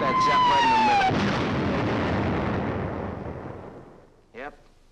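A bomb explosion sound effect from an old radio drama about a wartime bomber attack on a ship: a falling whistle, then a loud, booming blast with a long rumbling decay, followed by a short vocal sound.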